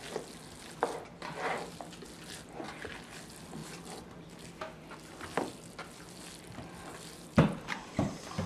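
A meatloaf and rice mixture being stirred by hand, with soft, irregular scraping and squelching bursts and a few sharper clinks near the end, fairly close and quiet with no talk.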